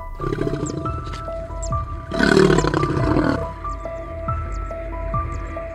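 Lions fighting for dominance let out a harsh, loud roaring burst in the middle, over a steady tonal background with faint wet, dripping sounds before and after.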